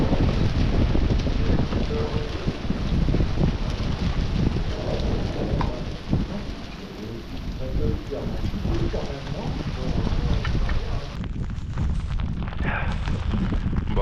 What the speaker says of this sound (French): Bon, il pleut toujours.